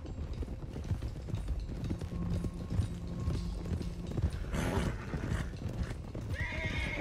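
A Turkoman horse with a dark bay coat from Red Dead Redemption 2 gallops with steady, rapid hoofbeats, and a whinny breaks through over rumbling outdoor background noise.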